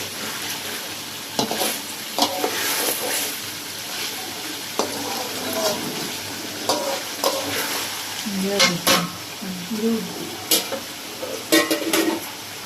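Potatoes deep-frying in oil until light brown, a continuous sizzle with repeated stirring clatters and scrapes of a utensil against the pan, close and moderately loud, with faint background voices at times.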